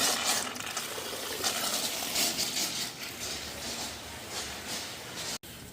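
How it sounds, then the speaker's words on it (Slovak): Hot mineral water at the 64-degree Charles IV spring in Karlovy Vary gushes and splashes steadily, a broad continuous rush heard close up without speech. "Tu je prameň Karola IV."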